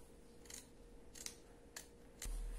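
Scissors cut the sleeves off a blouse along the seam, four crisp snips spaced about half a second apart, close and clear over a quiet room.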